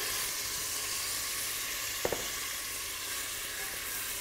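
A good quantity of onions sizzles steadily in a hot pan, a continuous close frying hiss with a brief clink of a utensil stirring midway.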